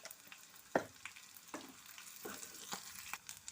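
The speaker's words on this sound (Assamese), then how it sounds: "এই মাছখিনি অকণমান সময় ভাজিলেই হৈ যায়।" Dried fish frying in a pan with turmeric, a steady close sizzle with scattered crackles and small pops.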